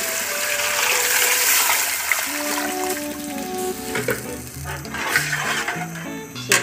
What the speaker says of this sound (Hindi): तो चलिए अब इसके अंदर पानी भी डाल देती हूँ मैं